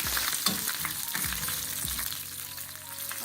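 Ginger and green chilies fry in hot oil with a loud, crackling sizzle, while a spatula scrapes and thumps against the pan in a few quick strokes.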